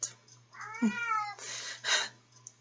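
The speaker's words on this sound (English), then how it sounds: "my cat is caught underneath my sheet." A cat trapped beneath a bed sheet gives a clear, close meow with a rising-falling pitch, followed by two muffled bursts of rustling, over a steady low hum.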